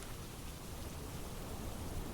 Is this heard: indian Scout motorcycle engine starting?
no